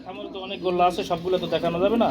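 Pigeons coo steadily and up close at a pigeon farm, their throaty, rolling calls overlapping through the short stretch.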